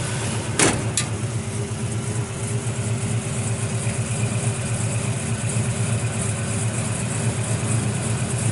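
A 1967 Chevrolet Chevelle SS 396 big-block V8 with 350 horsepower and MagnaFlow exhaust idles with a steady, deep, loping rumble, close and continuous, after a brief click at the start, no talking.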